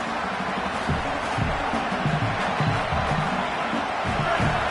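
A football stadium crowd roars on fourth down, a dense, sustained wall of cheering with scattered shouts and claps rising out of it, heard at a distance.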